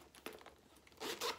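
A zipper on a leather backpack purse is pulled in a few short, scratchy bursts, the last two strokes louder and quicker than the first.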